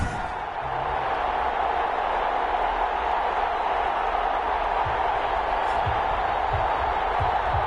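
A stadium crowd roars steadily in an NFL football video game before a Minnesota Vikings vs Detroit Lions matchup, a dense, continuous wash of cheering with a few low thuds near the end.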